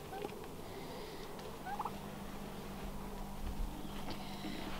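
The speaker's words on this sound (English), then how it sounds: "these are all my beautiful little birds that are asking to be fed once again" Turkeys gobble and call to be fed on a cold day, several gobbling bursts at moderate distance over a low steady background hum, with no talk.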